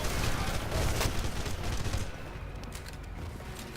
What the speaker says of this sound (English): Oops, that was the bad guy shooting at me.